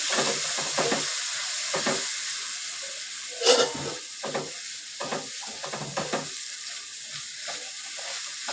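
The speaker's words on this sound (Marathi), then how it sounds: "डाळ परतून घ्यायची" Dal sautéing in a pan for khichdi gives a continuous close sizzle and hiss, broken by a series of stirring scrapes and spatula knocks.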